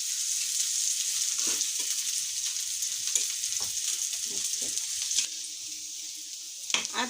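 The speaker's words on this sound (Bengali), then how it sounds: "এখন সুন্দর করে এটাকে ভেজে নিব, লাল লাল করে ভেজে তারপর বাগার দিয়ে নেব" Onions sizzle and fry steadily in a pan for Punjabi-style saag, a constant bright hiss with scattered scraping stirs, the sizzle dropping quieter near the end before a final clatter; no talking.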